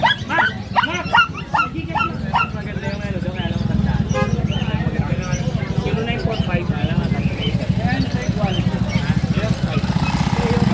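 A small puppy yips and whimpers in rapid, high bursts, with people talking nearby over a steady background hum.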